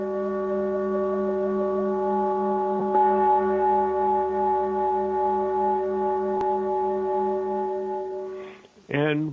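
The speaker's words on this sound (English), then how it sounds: "I started going back to my own traditions and playing the Tibetan singing bowl." A Tibetan singing bowl rings with a sustained, shimmering metallic tone and steady harmonic overtones, restruck partway through and held close and loud, then fading out as a voice starts to speak at the very end.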